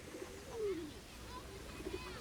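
Pigeons cooing softly in an outdoor setting, a few low rolling coos rising and falling under steady background noise, with some faint talk around them.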